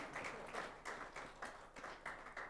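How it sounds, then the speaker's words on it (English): An audience applauds at a live research and innovation conference session, giving steady, fairly quick clapping in a soft, distant wash that continues throughout with no talking over it. "So, big applause, please,"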